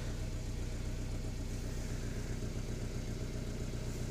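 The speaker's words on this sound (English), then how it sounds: "it's idling high now, but the other day it was idling around 650, 700 RPMs" A Honda car engine idles high and fast close by, a steady even rumble with no change in pitch, alone and without voices.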